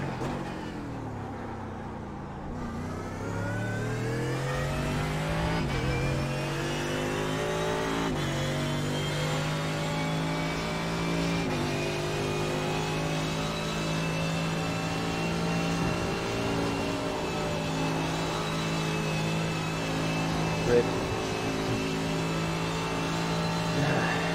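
Mercedes AMG GT3 race car at Spa in iRacing, its engine note climbing through the revs and shifting up again and again, a bright sustained drone with clear harmonic steps at each gearchange, heard alone at close range.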